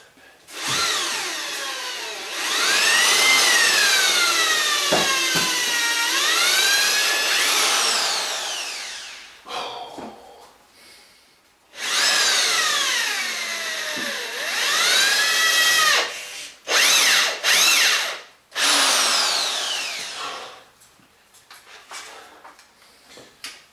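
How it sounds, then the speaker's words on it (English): A power drill bores into a Kawasaki GT550 motorcycle frame during a drop-seat bobber build, whining through two long runs that sag and recover in pitch, then several short bursts, close and loud. "set to punch those and drill the frame"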